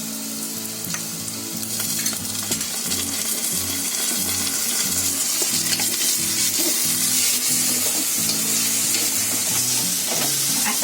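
Ginger-garlic paste sizzles loudly in a pan with mashed pav bhaji vegetables and fried capsicum, a steady close frying hiss broken by repeated stirring scrapes throughout, with no talking.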